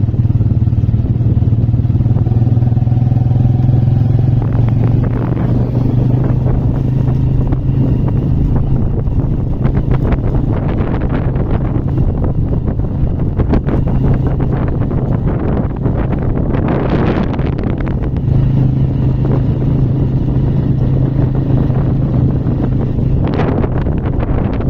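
A motorcycle rides over bumps, its engine droning steadily under heavy wind buffeting, with clattering jolts as the bike hits the jumps.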